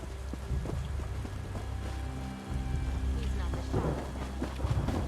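Rumbling thunder with rain falling in Elder Scrolls Online, set on High Isle; a low roll of thunder swells under steady rain, with faint game sounds and some talk mixed in.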